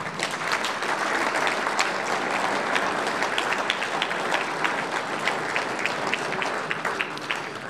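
A crowd gathered for an Easter Monday fraternity event applauds at length, a steady, dense patter of clapping hands heard from a moderate distance and sustained for several seconds.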